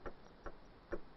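Clock ticking in three evenly spaced, crisp clicks, close and fairly quiet, alone with faint background hiss.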